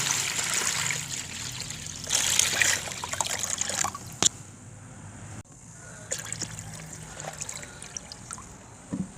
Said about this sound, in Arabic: ببدا انزل بقى بالميه النظيفه